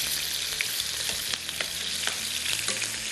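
Masala frying in a pan for fish pulao, a bright continuous sizzle with occasional stirring scrapes and taps, close and steady throughout.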